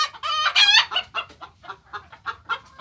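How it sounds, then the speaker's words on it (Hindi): Golden Misri chickens in a poultry farm shed give a close burst of loud clucking and squawking, then a run of softer, repeated clucks over a low murmur of other birds. "तो इमारात के अंदर गोल्डन मिस्री मुर्गियाँ माशाल्लाह बहुत खूबसूरत लगता है"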